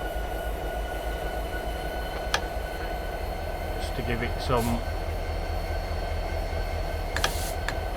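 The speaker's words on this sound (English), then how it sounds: "So we need to move the train forward, I'm guessing" A train in the Train Simulator game pulls forward from a standstill, giving a steady low rumble and rolling noise with a few brief squeals and clanks. A voice talks over it.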